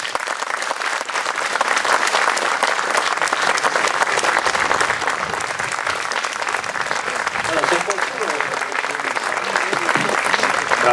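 Audience applause after a professor's lecture fills the hall, a dense, steady wash of clapping from many hands that holds at full strength throughout without pause.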